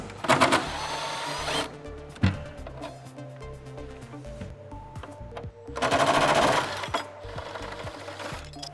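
A power driver ratchets out a T40 Torx bolt inside a 1997-2006 Jeep Wrangler TJ, two short buzzing bursts near the start and a longer whir later, with quieter clicks and handling noises between them.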